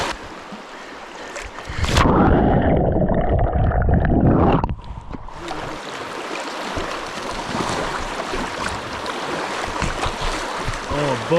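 Strong tidal current rushing around a small island off the coast of Canada, a loud surging roar of moving water that swells for a few seconds, then settles into a steady wash.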